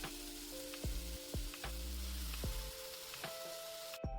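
Potato and eggplant frying with ground masala in a pan, a soft continuous sizzle broken by several sharp scraping stirs at an uneven pace, close up and fairly quiet.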